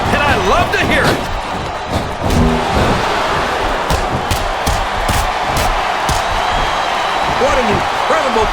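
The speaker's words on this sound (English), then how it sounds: "This capacity crowd is making their opinions known tonight." Arena crowd noise in the WWE SmackDown vs Raw 2007 video game during a women's ironman match, a steady roaring crowd bed under commentators' voices with occasional louder swells.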